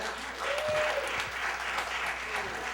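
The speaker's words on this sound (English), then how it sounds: "By a round of applause." A comedy club audience applauds, a dense close burst of clapping that holds steady for a few seconds, with a voice briefly over it.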